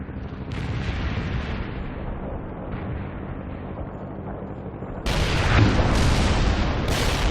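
Artillery fire support explosions in the war game World in Conflict, a rolling barrage of deep booms and rumbling blasts that swells louder with sharper crashing impacts toward the end, with no speech.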